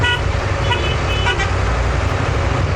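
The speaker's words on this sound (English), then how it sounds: "I don't know if beeping will help, but you can try." Traffic rumble fills a street scene in Ghana while a car horn toots a few short times in the middle distance, steady engine noise underneath.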